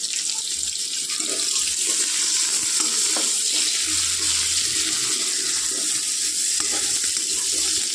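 Chopped onions and a slit green chilli frying and being stirred in a pan for a rohu and eggplant curry, with a steady close sizzle and occasional scraping stir strokes, no talking.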